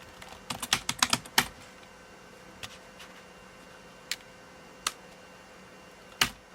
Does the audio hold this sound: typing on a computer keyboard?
yes